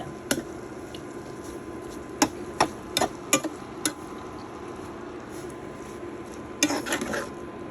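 A utensil stirring spicy dried dulong fish in a pan gives scattered sharp scraping clinks, a few spaced taps, then a cluster near the end, over a soft steady background.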